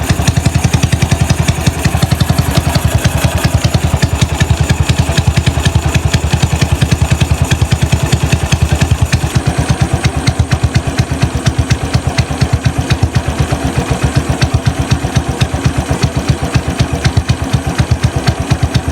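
A stock motorcycle engine fitted with a newly swapped aftermarket exhaust pipe runs loud and close, its rapid, steady thumping pulses continuing without a break through the whole stretch, with no voices.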